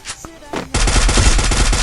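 Gunfire in the mobile game Free Fire: after a short quiet stretch with faint voices, a loud sustained burst of rapid automatic shots fills the rest of the moment.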